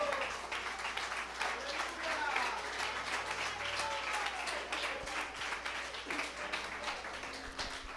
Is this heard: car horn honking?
no